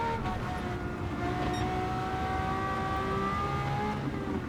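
A V12 car engine fitted with a semi-racing exhaust revs steadily and loudly close by, its tone climbing and holding in a continuous drone with no talk.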